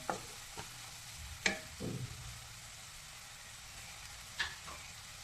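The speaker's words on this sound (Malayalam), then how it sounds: "തക്കാളി കൂടി ഇട്ട് കൊടുക്കുക നന്നായി ഇളക്കി കൊടുക്കുക" Chopped tomato stirred into hot oil in a pan for egg bhurji produces a faint sizzle beneath a few sharp spoon scrapes and taps against the pan, close and quiet.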